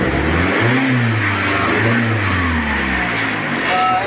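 A car with a 4G63 engine, just repaired after misfiring, losing power and stalling at high RPM, revs up and down in steady, loud swells close by.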